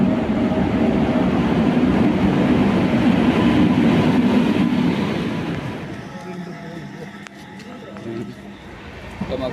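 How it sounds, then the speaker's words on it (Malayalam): An Amritsar to Kochuveli train pulls into a station: a loud, steady rumble of rolling carriages for about six seconds, then it fades to quieter station ambience with faint voices and scattered clicks. "നമ്മളെ ട്രെയിൻ വരുന്നുണ്ട്. അമൃത്സറിൽ നിന്നും വരുന്ന ട്രെയിനാണ്"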